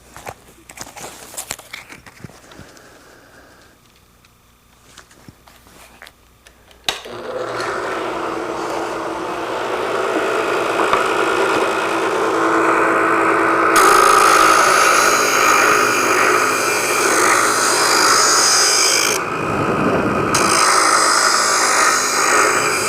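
A drill press running at about 3,000 RPM sands wood with a steady, loud whirring grind. It starts after several seconds of quiet shuffling and handling noises.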